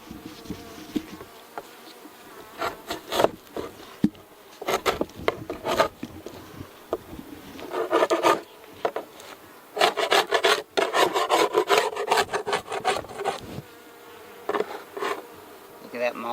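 A hive tool rasps and scrapes wax moth cocoons off a wooden beehive frame in repeated gritty strokes, close and loud, with bees buzzing around the work.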